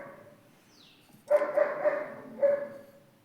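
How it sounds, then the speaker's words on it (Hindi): A dog barks a few times in the background of a home tailoring session, with short, sharp barks in quick succession after a quiet stretch, and a final bark a moment later. "ये डॉगी हमारी नहीं है, तो इस पे हमारा कोई कंट्रोल नहीं है।"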